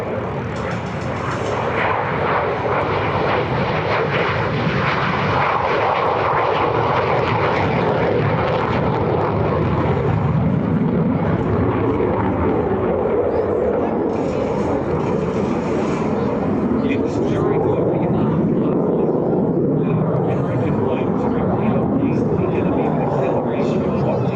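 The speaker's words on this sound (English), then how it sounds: "It's on the takeoff roll now from the right, a Victory Gorge MiG-17 Fresco." A MiG-17 Fresco jet fighter rolls for takeoff at the Air Power Over Hampton Roads air show, a loud sustained jet engine roar that fills the scene, with a commentator talking over it.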